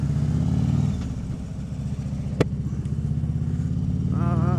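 A Harley-Davidson Road King Classic motorcycle riding along an English country road, its engine a steady, throbbing low drone heard close up from the rider's seat, with a brief sharp click partway through.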